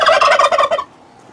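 Turkeys kept indoors in a divided farm building gobble loudly in a rapid, rippling burst for under a second, then fall silent.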